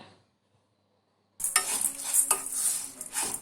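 Drumstick leaves and sago are stirred and sautéed in a hot pan. The utensil scrapes and clinks steadily over a bright, continuous sizzle that starts suddenly after a stretch of near silence.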